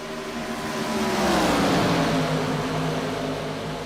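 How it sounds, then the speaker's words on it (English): Gen 4 Cup stock race cars roar past at high revs on the Michigan oval, the pitch rising and then dropping as they sweep by, loud and continuous. "These Gen 4 Cup cars just sound awesome."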